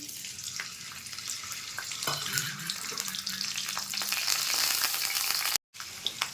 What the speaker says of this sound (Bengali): শুকনো লঙ্কা আর রসুনটা ভাজা হয়ে গেছে